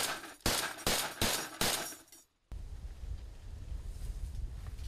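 Weapon fire from Ukrainian marines near the frontline: four loud, sharp blasts in quick succession, each trailing off, then a short silence followed by steady wind rumble.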